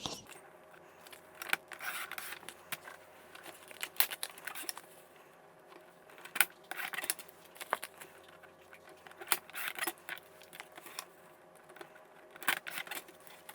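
Scissors snip through material for a handmade Hobonichi planner cover, a quiet, close series of irregular cuts and rustles spread over several seconds, with brief pauses between bursts.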